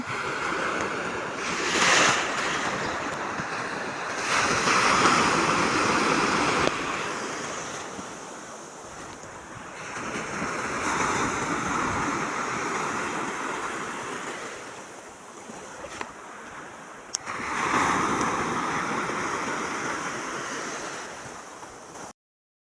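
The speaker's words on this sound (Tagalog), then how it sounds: "ang lalaki ng alon." Big ocean waves surge and crash repeatedly, a broad roaring wash with gusts of wind noise, loud and close throughout.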